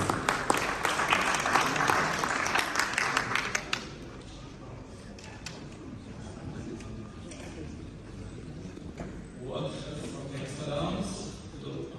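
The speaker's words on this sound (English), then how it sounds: "Let's welcome him with a round of applause on the stage, please." An audience claps loudly for a few seconds to welcome a speaker onto the stage at a business and investment event, then the applause cuts off and a quieter room with a voice follows.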